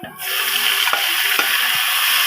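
Water heating in a pot for spaghetti on a kitchen stove, giving a steady loud hiss and rumble of boiling with faint bubbling ticks throughout, no talking.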